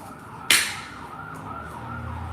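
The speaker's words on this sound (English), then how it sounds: "more sirens." Distant emergency sirens wailing outside, a faint rising and falling tone heard under a sharp nearby crack and a low background rumble.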